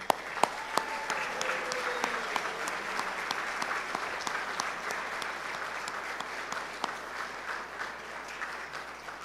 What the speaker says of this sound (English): let's give a big round of applause to the the Hospitality Management Studies students